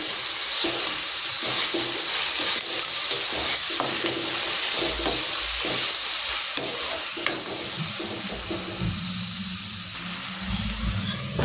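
Chopped tomatoes with salt fry loudly in a hot pan, giving a continuous close sizzle and hiss with occasional stirring scrapes.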